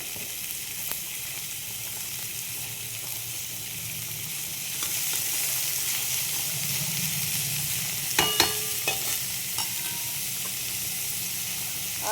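Onions and eggplant frying in a pan, a steady sizzle throughout with a few louder crackles and spatters near the end.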